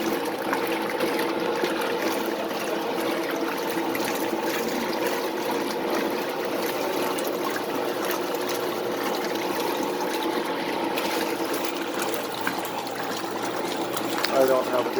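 A washing machine agitating its load mid wash cycle, with a steady churning, sloshing water noise running continuously and fairly close throughout, no clear pauses, and a brief louder slosh near the end.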